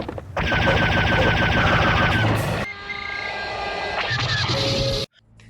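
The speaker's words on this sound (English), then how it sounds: "Afterwards, we get a laser gun and fight more enemies. Pretty sure this laser gun uses sound effects from Star Wars" Weapons fire rapidly in the first-person shooter Serious Sam, a dense, loud stream of repeated shots mixed with game music and effects that cuts off abruptly at the end, with no talking.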